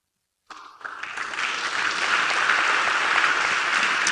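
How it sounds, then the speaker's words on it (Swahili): A church congregation claps in sustained applause that swells after a brief start and stays loud and dense throughout, with no talk over it. "Hayo makofi hayatoshi, mpigie Bwana makofi yanayoeleweka."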